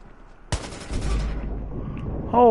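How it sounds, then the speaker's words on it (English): Gunfire in the video game Watch Dogs: one sharp, loud shot cracks out, then a dense, rumbling volley of rapid fire follows and fades, ending on a short burst of game noise. "I better switch to the good gun."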